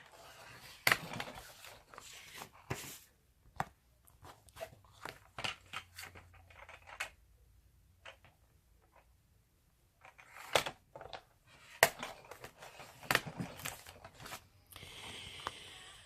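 Scissors trim around the edges of a self-laminating sheet, with scattered close snips in bursts separated by quiet pauses, no speech.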